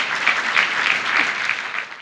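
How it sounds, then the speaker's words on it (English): An audience at a church healing service clapping for Jesus Christ, dense sustained applause with a slightly pulsing rhythm, fairly loud and filling the room. "Clap, clap for Jesus Christ"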